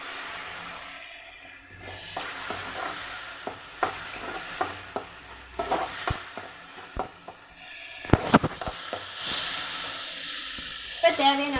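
Tomato sauce and chilli sauce stirred together in a bowl for a momos chutney, giving scattered soft clicks and scraping taps of a spoon, with a busier burst of clinks late on over faint kitchen background.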